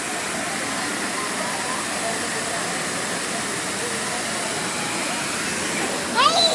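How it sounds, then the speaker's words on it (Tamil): A crowded waterfall at Manimutharu roars steadily as broadband rushing water, loud and continuous throughout, with a brief sharp squeal or child's cry near the end. "அருவிக்கிட்டே ஃபால்ஸ்கிட்டே வந்துட்டோம்"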